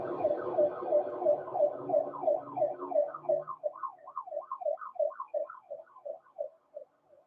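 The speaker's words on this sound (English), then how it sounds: "Wait, do I hear ambulance out here?" An ambulance siren wails in a rapid, rising-and-falling yelp pattern, loud at first and then continuing alone as it fades slightly toward the end.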